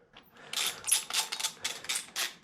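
An 8mm socket wrench ratcheting on a Sur Ron Super Moto wheel bolt, a close run of quick clicking strokes repeating in a steady back-and-forth rhythm, with no voices.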